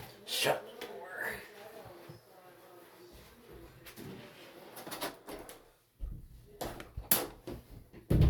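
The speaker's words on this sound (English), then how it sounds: "I'm gonna shut the door." A Maytag MVWX655DW1 top-load washing machine door thumps shut with a few sharp knocks and clatters at close range, mixed with rustling handling noise and a voice speaking nearby.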